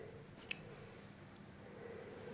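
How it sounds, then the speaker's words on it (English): Small scissors snip once across the fabric corner of a sewn patch pocket on an apron, a single brief, quiet cut against a soft, steady room background. "So just with some small scissors, again cutting a triangle across"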